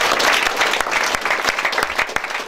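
A church congregation at a Friday prayer programme claps in loud, fast applause, dense and sustained for a few seconds with some sharper individual claps standing out.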